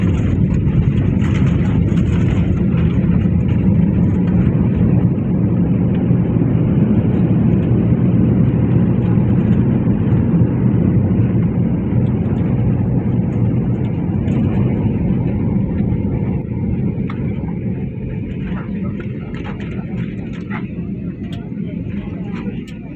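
Passenger airplane taxiing after landing at Minangkabau International Airport in Padang, West Sumatra, heard from inside the cabin: a loud, steady engine roar and rumble that eases slightly near the end, with talk over it.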